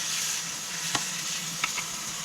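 Pork and garlic sizzle in a pan for pinakbet, a constant bright frying hiss with a few short clacks of a stirring utensil against the pan, no talking.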